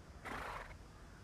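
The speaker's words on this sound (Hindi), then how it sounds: "ये घोड़ा कौन से वैरायटी का है?" A Punjabi-breed horse lets out a single short, loud neigh close by, with no one speaking.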